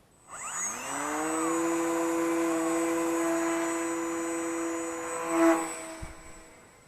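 An electric motor spins up as a Volantex P-51D Mustang RC warbird is hand-launched outdoors, a steady whining buzz with rising tonal pitch that holds through the climb and swells briefly near the end, with no speech.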